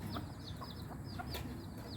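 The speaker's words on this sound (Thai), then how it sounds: "ไก่มีลูกอ่อน" A hen with young chicks clucks softly in short, repeated bursts over a steady low background hum, with a few sharper clucks scattered throughout.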